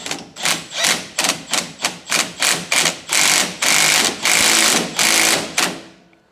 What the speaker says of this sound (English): get a giant bolt like this with big, strong, tough washer, and then if we just drive this home